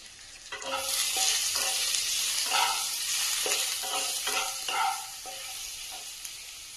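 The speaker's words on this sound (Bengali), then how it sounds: "এবার আমি কড়াটা নাড়াবো।" Mushrooms seasoned with black pepper and salt sizzle steadily in a wok while being stirred, with repeated scraping strokes over a continuous close, moderately loud frying hiss.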